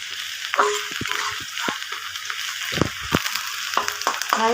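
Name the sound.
onions and potatoes frying in a pan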